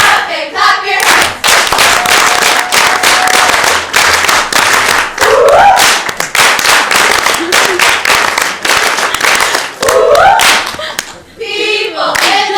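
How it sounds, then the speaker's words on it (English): A crowd in the stands claps and cheers, with dense rhythmic clapping mixed with shouts and a voice speaking over the noise. "people in the stands, stand up and clap your hands"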